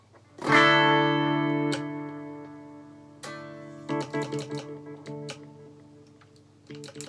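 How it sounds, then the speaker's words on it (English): An electric guitar through a pedalboard with reverb decay turned up high rings out in a loud strummed chord that sustains and fades, then picked notes and short chords follow, each trailing a long wash of reverb. "Turn the decay up on the reverb so it's massive"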